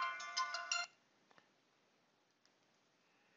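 A phone rings with an incoming call placed by a dialer, giving a short burst of electronic ringtone tones under a second long, then near silence with faint clicks.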